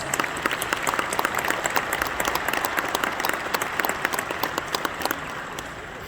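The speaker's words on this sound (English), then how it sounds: "Let's give them a round of applause." Audience applause at a police awards ceremony, a dense, steady burst of clapping from a large room that holds evenly for about six seconds with no talk over it.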